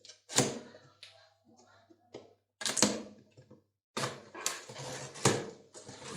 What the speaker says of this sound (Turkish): Kutumuzu açalım.